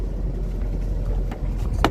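A boat's outboard motor hums steadily and loudly as the throttle opens, a constant low drone with water and wind noise around it.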